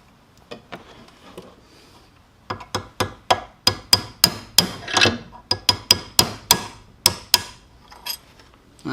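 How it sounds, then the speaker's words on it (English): A hammer drives a punch against the thick aluminum side of a motorcycle brake part, about twenty sharp metallic taps coming quickly and fairly evenly up close, preceded by a few lighter setup knocks. "let's try this first with a little bit of a punch on the meaty aluminum side"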